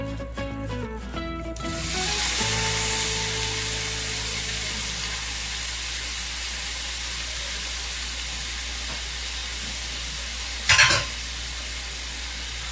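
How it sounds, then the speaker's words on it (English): Three cups of beets go into a pot of bubbling syrup. Fast bubbling gives way to a loud, steady hiss and sizzle, and near the end there is a single short clank. "now I'm going to put in the 3 cups of beets"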